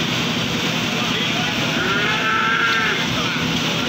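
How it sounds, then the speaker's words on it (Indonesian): A male goat gives a drawn-out, wavering bleat over a constant noisy outdoor background, rising clearly for a second or two mid-way. "Begagak-begagak ya, kambingnya"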